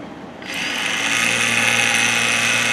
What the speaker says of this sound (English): And I just start cutting fretboard, man.